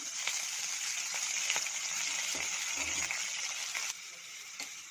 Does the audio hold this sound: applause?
no